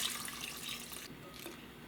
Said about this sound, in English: I'm going to add some liquid to this